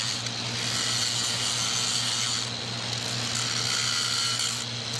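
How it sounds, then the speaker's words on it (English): A grinder's abrasive wheel smooths a pipeline weld, giving a steady, loud, continuous whirring grind with a constant low motor hum throughout, close up and without speech. "That grinder is smoothing down the weld with a grinding wheel"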